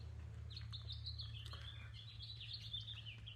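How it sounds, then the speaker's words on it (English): Small birds chirp and twitter continuously in the distance over a steady low outdoor hum, with no one speaking. "Got some birds chirping."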